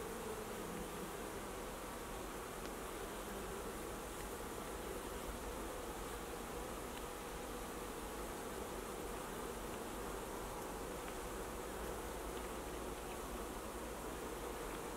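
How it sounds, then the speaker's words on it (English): A honey bee at the hive buzzes with a steady, even drone amid a soft swarm hum, faint and continuous with no voices. "You hear one angry bee there also."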